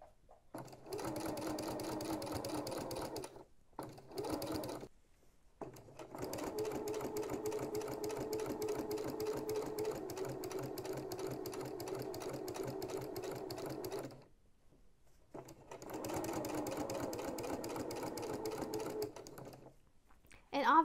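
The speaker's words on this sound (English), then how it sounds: "Just start in any random spot and just start to sew." A sewing machine edge-stitches the twice-folded hem of an off-white tea towel, running in steady rattling bursts broken by short pauses, fairly quiet and close.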